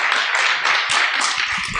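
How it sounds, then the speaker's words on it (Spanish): An auditorium audience at an international chemistry graduate congress claps for a departing speaker, a short, loud, dense burst of applause with no voices. "Vamos a despedirlo con un aplauso."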